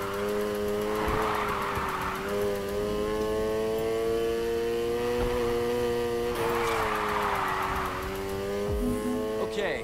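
A car drifts in the Need For Speed Heat video game, the engine droning at steady revs while tires squeal in two long screeching slides, with a voice talking over the gameplay.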